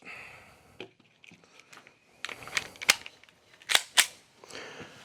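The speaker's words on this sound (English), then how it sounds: "you fire 2 shots and then come back down" Gunfire during a shooting drill from a holstered or low ready position, with two sharp cracks coming close together after quieter mechanical clicks and handling noises.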